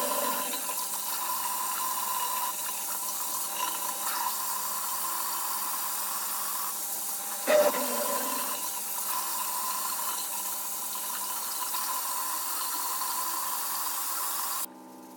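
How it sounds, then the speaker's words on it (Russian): Water runs steadily from a bathroom tap while a konjac sponge rinses a face mask off the skin, a continuous close hiss and splash with one brief louder splash midway, ending abruptly. "И я ее буду смывать вот этим же своим конжаковым спонжем от L'Etoile."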